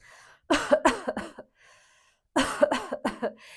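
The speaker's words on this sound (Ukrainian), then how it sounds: "Кашляємо голосно, щиро." Two bursts of loud, forceful coughing, each a rapid string of several harsh coughs, separated by a short pause.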